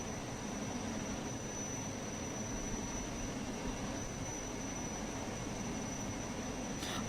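A jet aircraft engine in the Unturned video game drones as a steady, fairly faint whine and rush that holds evenly throughout.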